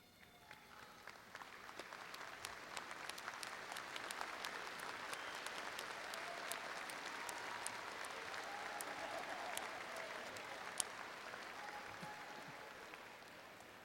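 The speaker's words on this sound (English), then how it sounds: "So let's all stand and applaud the support system that has been instrumental in your success." A commencement audience stands and applauds the graduates' support system, with dense, sustained clapping from a large crowd that swells and holds steady for about fourteen seconds, some sharp nearby claps standing out.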